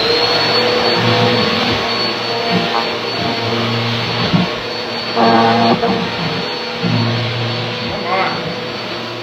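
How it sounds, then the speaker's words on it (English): A household vacuum cleaner runs loud and steady close by for the whole stretch, its drone rising and falling slightly as it moves, while people talk over it. "gonna vacuum real quick"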